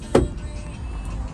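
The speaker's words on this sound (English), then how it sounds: "Even got OnStar in here and a sunroof up top. We'll go ahead and open that up, let you see that." A 2006 Cadillac Escalade's sunroof gives a short, sharp click or thunk from its motor, then a low, quiet hum of cabin background that carries on without talking.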